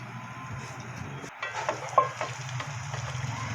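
Garlic frying in melted butter for butter garlic shrimp and squid, a steady close sizzle with crackling pops and a brief pause near the start, no talking.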